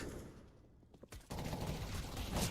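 Bursts of SMG and rifle fire in a Counter-Strike: Global Offensive match, sparse shots at first, then a dense sustained volley of rapid gunfire that continues to the end.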